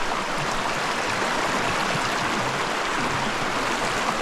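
A small mountain creek in Colorado, a fork off a larger creek, flows in a steady, close, full rushing wash of water with no break, and no voices.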